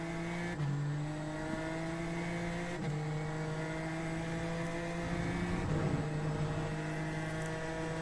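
A turbocharged F3 race car is driven in the iRacing video game, its engine holding a steady, buzzing high-rev tone close by. Brief pitch dips mark quick gear changes, and no voices are heard.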